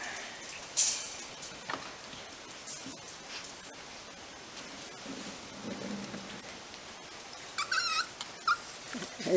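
Puppies playing indoors on a rainy morning, with faint yips and whimpers over steady rain-like background noise and a few sharper squeaks near the end.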